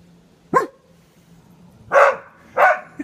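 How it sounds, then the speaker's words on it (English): A dog barks at a plastic bag indoors: three short, sharp barks, one near the start and two close together toward the end, fairly near with quiet background between them and no talking. "The dog is barking at that plastic bag."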